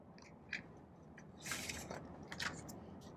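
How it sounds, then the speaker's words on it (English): Soft, close crunching and chewing as someone bites into a crisp apple, a few distinct bites followed by quieter mastication in a hushed setting. "They're also very crunchy. Crunch, crunch, crunch."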